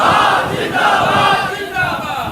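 A large crowd chants slogans at a religious speech, a loud, sustained roar of many voices filling the space and swelling slightly near the end.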